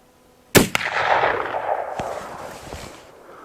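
A single loud rifle shot from a long-barrel rifle fired at a jug, a sharp crack followed by a long rolling echo that decays over several seconds, with a faint distant impact tick.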